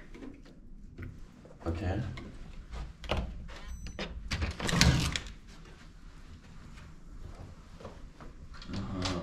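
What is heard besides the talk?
hotel room door being opened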